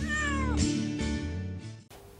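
A cat meows in a few drawn-out, wavering calls, close and clear, before the sound cuts off abruptly.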